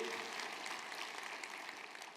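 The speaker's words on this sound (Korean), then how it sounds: "박수로 한번 영광을 돌려." A church congregation applauds together, a dense, steady wash of many hands clapping at moderate volume throughout, with faint voices mixed in beneath.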